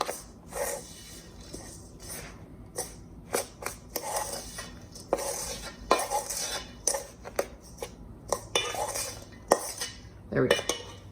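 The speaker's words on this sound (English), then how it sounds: "we are going to put approximately 1/4 of this into here and then try to pat it down" A pecan nut crust mixture is pressed and patted into a metal pie pan. Irregular clinks, taps and scrapes of utensil against pan repeat close up for several seconds.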